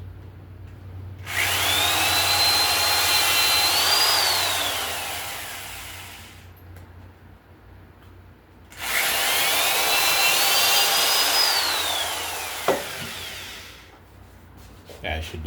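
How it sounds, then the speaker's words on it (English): A power drill bores holes in a homemade photo frame in two long, whirring bursts, each lasting several seconds, rising in pitch and then winding down, with a pause between them. "Now, we're drilling holes."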